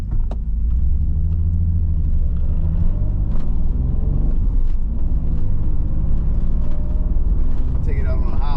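A 1993 Nissan 300ZX on its first drive after refuelling, with a steady loud engine and road rumble filling the cabin throughout, low and constant, with faint rattles and some background voice sounds.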